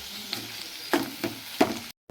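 Eggplant pieces with curry leaves, turmeric and salt frying in a pan, a soft steady sizzle with three or four light stirring knocks of a spoon against the pan, close by and without talking.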